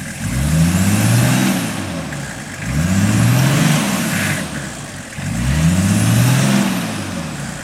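A Nissan Patrol 4WD, its tyres let down to 16 psi, revs through mud in three loud surging rises and falls, the engine climbing and dropping close by with no talk.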